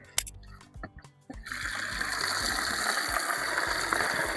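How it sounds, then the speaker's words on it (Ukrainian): A few scattered drips and clunks, then water gushes steadily from a tap into a bucket for mixing fertiliser, a continuous close splashing rush. "Набираємо в них воду"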